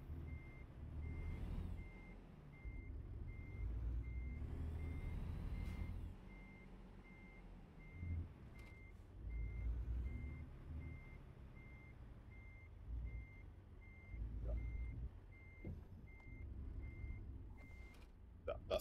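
A Peterbilt truck in American Truck Simulator backs up with a steady, evenly spaced reversing beep, sounding over the low rumble of the idling engine, with an occasional hiss of air brakes.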